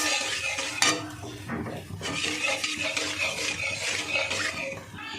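White sauce cooks in a pan while a utensil stirs and scrapes against the metal, giving close clattering knocks over a soft bubbling sizzle, with no talking.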